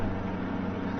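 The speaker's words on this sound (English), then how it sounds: "It's a normally aspirated 8-cylinder engine that develops 471 horsepower." Naturally aspirated 471-horsepower V8 engine in a Lexus, heard as a loud, steady, dense rumbling drone close by, with no clear rise or fall in pitch during the brief moment.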